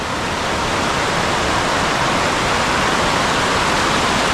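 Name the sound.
waterfall in Andharban forest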